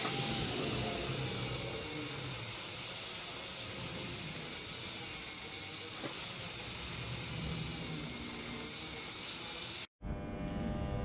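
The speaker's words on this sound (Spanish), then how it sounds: "Ahora vamos a sacar la escoria otra vez" Slag is chipped and brushed off a flux-core wire weld bead, with a steady loud hiss and scratching throughout that cuts off abruptly near the end.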